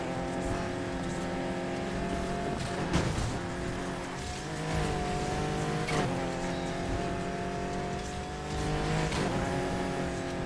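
A car engine in Need for Speed Heat drones steadily with a sustained, loud motor tone and brief swells as it drives, with no talk over it.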